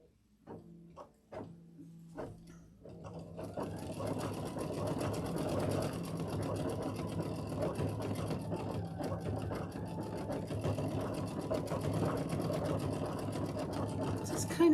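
Sewing machine stitching a quilt, starting with a few separate stitches that build into a steady, fast mechanical whir running continuously, close and fairly quiet, with a voice speaking at the start.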